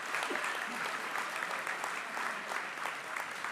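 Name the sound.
round of applause for graduation marshals and volunteers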